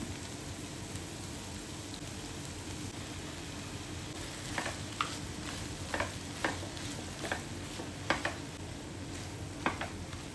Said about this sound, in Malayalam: ക്യാപ്സിക്കം ഇട്ട് ഒന്ന് വഴറ്റിയതിന് ശേഷം നമുക്കിതിലോട്ട് ടൊമാറ്റോ പേസ്റ്റ് ചേർത്ത് കൊടുക്കാം.